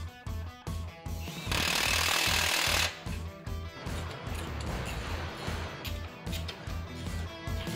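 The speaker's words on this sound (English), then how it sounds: "ratchet, ratcheting things in so that they get tight" A ratchet tightens suspension parts on a Jeep JKU overlanding build on an alignment rack. Rapid, loud metallic clicking runs in steady bursts, broken by a harsh continuous mechanical roar lasting about a second and a half.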